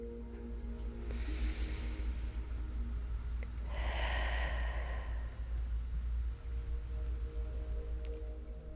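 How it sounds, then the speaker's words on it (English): A single slow, deep breath, a soft airy inhale followed by a longer, broad exhale, heard close and quiet over a low steady background hum, with no talking. "let's take one slow breath together"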